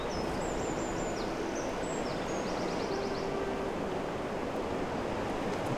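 Continuous rushing water in the Gothic remake demo video game, a steady broadband wash like surf with faint bird chirps and trills drifting above it, no voices.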